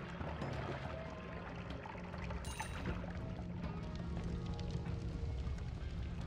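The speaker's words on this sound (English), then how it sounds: "Water." Water pouring in the pixel-physics game Noita: a steady, continuous rushing stream that fills the whole stretch at moderate loudness, with a brief brighter splash partway through and no talking.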